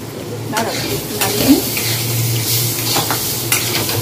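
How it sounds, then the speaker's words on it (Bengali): Water hits sizzling spices in a pan and a loud hiss bursts up amid spoon scrapes and metal clinks against the pan, close and busy, with a voice speaking briefly. "মশলাটা এবার জল দিয়ে দেবো"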